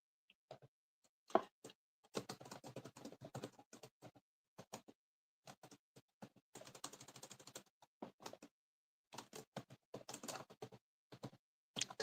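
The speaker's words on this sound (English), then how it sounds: "Typing this out." Keyboard typing in irregular bursts of crisp, close clicks separated by short silences, with no voices.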